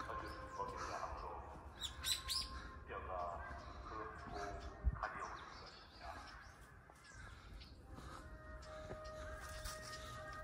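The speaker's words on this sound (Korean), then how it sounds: "새소리 듣기 좋군요" Birds chirp and caw, with crows among them, in an autumn park at Taejongdae temple in Busan; scattered calls repeat over a steady outdoor background while people talk nearby.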